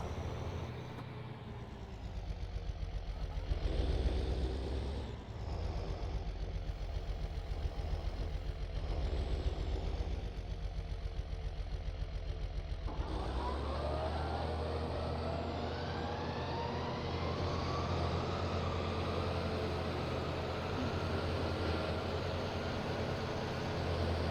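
Tractor engine in the farming game Farming Simulator 22, a steady, continuous drone at constant level that shifts to a rougher, busier tone about halfway through, running alone without talk.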